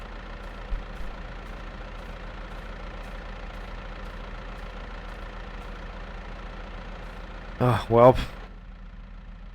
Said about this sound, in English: No, it has to be the tractor.